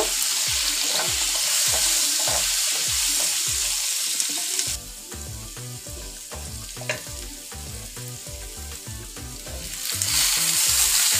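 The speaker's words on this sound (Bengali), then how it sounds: "আবার একটু তেল দিয়ে দিয়েছি, এবার আলুগুলোকে ভেজে নিব।" Potatoes fry in hot oil with turmeric and salt, giving a steady loud sizzle broken by regular stirring scrapes, softening midway and swelling again near the end, with no talking.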